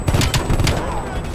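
Rapid gunfire from the video game Call of Duty: Black Ops Cold War, dense bursts of loud shots packed through a short stretch with low booming rumble beneath.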